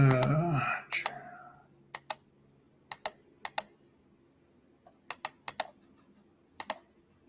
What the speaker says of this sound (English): You're doing a lot of clicking over there, Jason.